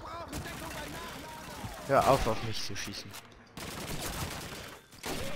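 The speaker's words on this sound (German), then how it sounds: "Hör auf mich zu schießen" Call of Duty 2 gunfire crackles in quick bursts amid battlefield noise, with a brief pause partway through. A German-speaking voice talks over it and exclaims once.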